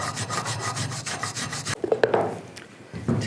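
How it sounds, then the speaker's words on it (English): A wire brush scrubs rust off the front brake parts of a 2008–2013 Nissan Rogue in quick back-and-forth rasping strokes, close and steady. The strokes pause briefly, then scratching and clinking sounds follow. "Take a wire brush."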